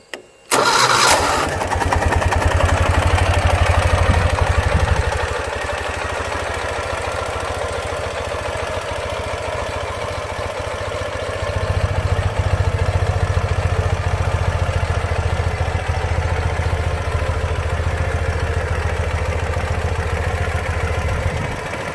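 A 2015 Ural GearUp 2WD sidecar motorcycle in urban camo cranks and catches, then settles into a steady, loud idle rumble that swells slightly partway through.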